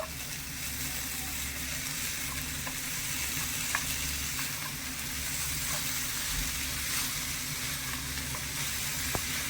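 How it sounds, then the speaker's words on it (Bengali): Raw papaya being stirred with sugar in a hot pan, a soft continuous sizzle with scattered light clicks and scrapes of the spoon, steady and moderately close with no talk. "চিনিটা দিয়ে নেড়ে ছেড়ে একটু মিশিয়ে নেবো"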